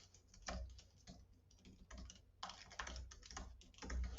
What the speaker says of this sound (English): as I start typing